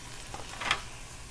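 Bacon sizzling in a non-stick pan while being turned with silicone tongs, a soft steady fry with a brief louder hiss as a strip is flipped, no talk.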